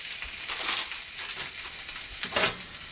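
Pork dry-frying in a very hot pan while making Sichuan stringbeans, a steady bright sizzle with crackling surges and a few soft scrapes and thumps of stirring, close and loud.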